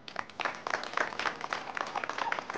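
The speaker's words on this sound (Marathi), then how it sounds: "त्यांच्यासाठी जोरदार टाळ्या झाल्या पाहिजेत" Studio audience on a Marathi game show clapping, a light, fairly faint patter of many hands with uneven rhythm, no talk over it.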